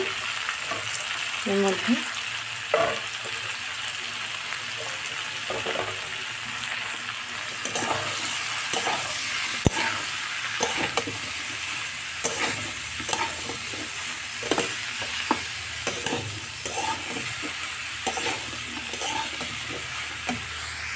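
Bottle gourd frying in a pan with cumin and tomato for a Bengali fish dish, a steady loud sizzle with repeated spatula scrapes and clinks, and a brief spoken phrase.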